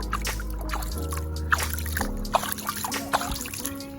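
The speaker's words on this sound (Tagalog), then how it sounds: "Tubig na tugnaw." Cold creek water trickling along a stream during an outdoor walk, a soft bubbling and dripping with a few brighter splashes, faint and close, under a low background hum.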